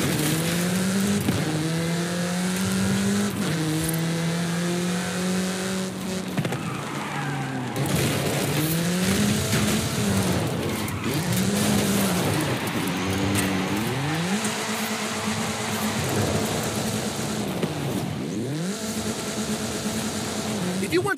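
A car is driven at speed in the Forza Horizon 5 racing game, its engine revving through rising and falling gear shifts with brief tire squeal, loud and continuous, while a voice talks over it.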